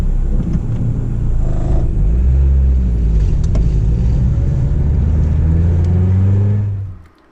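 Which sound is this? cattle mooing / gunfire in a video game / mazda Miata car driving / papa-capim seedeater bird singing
mazda Miata car driving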